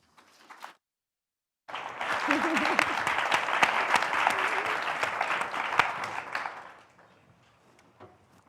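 An audience bursts into sustained applause to welcome a panel at an art talk on censorship, steady dense clapping lasting several seconds before fading, with a brief voice just ahead of it.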